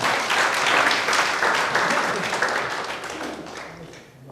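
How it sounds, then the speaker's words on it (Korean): Audience applauding at a book talk, dense clapping already underway and loud at first, then gradually thinning and fading toward the end. "여기서 박수를 치셔야 되는 겁니다."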